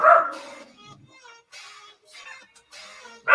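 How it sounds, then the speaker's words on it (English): Dogs outside scuffling and barking in short yelping bursts, a quick sequence of snarls and yips at moderate distance, separated by brief quiet gaps, with a louder bark at the start and end. "Now there's a dog fight."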